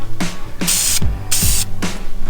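VHT satin black engine enamel sprays from an aerosol can in three loud, close bursts, each a short hiss with brief pauses between.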